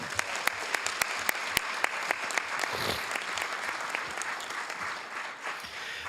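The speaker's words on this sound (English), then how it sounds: "Let's give a 42-year history a big round of applause" A room at a city council meeting breaks into applause, many hands clapping in a dense patter with a few sharp, close claps standing out early before the clapping thins toward the end.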